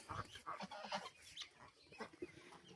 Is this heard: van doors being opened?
no